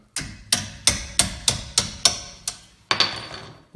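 Repeated hammer blows on the brake parts of a Dodge Grand Caravan with four-wheel disc brakes: nine sharp metallic strikes at a steady rhythm, close and loud, each ringing briefly before the next, with a slight gap before the last two.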